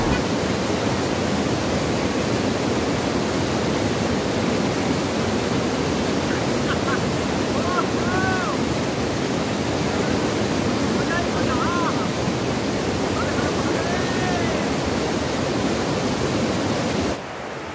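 Bhatinda Falls near Dhanbad roars as a dense, steady broadband rush of falling water, loud and continuous throughout, with faint distant voices barely audible beneath it before the sound drops off at the very end.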